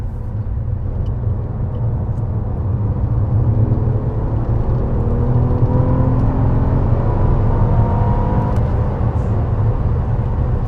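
A 2017 Acura RLX P-AWS accelerates hard on a public road, a steady loud engine and road rumble heard from inside the cabin, with rising whir tones building throughout and no voices.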